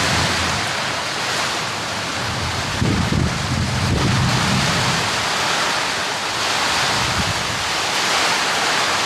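Storm wind and the first heavy monsoon rain of the season lash a village, a dense continuous roar of rain and gusting wind with no speech.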